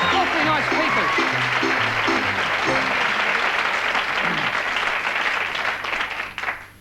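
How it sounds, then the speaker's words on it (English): A television theatre-sports audience gives a big round of applause for a competing team, close, dense clapping with a short tuned musical phrase playing underneath at first, then dying away near the end. "Big round of applause."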